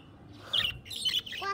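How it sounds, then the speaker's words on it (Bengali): A pet lovebird kept in a cage with eggs chirps in short, bright bursts, several quick calls close by and fairly faint in a quiet room. "এটা কি অরিজিনাল লাভবার্ড না বাজিগর?"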